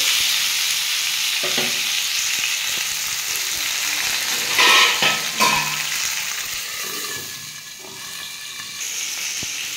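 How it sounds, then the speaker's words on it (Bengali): Potato and tomato fry in a pan while being stirred and pressed down, giving a close, steady sizzle broken by scraping and clinking of the spatula, with no talking. "আমি আলু আর টমেটো ভালো করে একটু ভেজে নেব চাপা দিয়ে দিয়ে"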